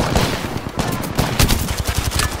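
Gunfire in Apex Legends, a loud burst of rapid shots with irregular cracks and impacts crowding the whole moment, close and continuous.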